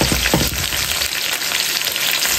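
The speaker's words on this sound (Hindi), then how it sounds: "अब मैं इनको डीप फ्राई कर रही हूँ ताकि ये अच्छे से इनका जो अंदर लेस है वो निकल जाए" Cut okra deep fries in hot oil with a dense, steady sizzle and bubbling. The sound is close and continuous, and a brief stir is heard near the start.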